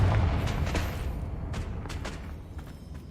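A Confringo fire spell bursts in the Hogwarts Legacy video game as a deep, rumbling explosion that opens loud and booming, then rolls on with crackling debris and scattered sharper hits fading over a few seconds.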